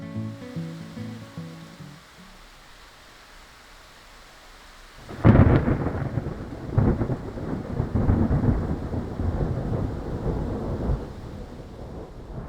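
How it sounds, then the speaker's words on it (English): Heavy rain with a deep rumble of thunder and gusting wind sweeps across a hiking trail in a storm, starting abruptly after a quieter stretch and staying loud and steady. "sound of the wind and now the rain."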